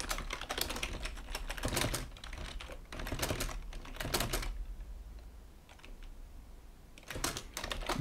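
Code being typed on a computer keyboard, with quick bursts of close, soft key clicks, a pause in the middle, and then the typing resumes.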